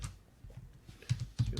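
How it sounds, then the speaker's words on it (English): Typing on a computer keyboard, a short burst of light key clicks growing louder toward the end, close and alone without speech. "So in here, type in the location."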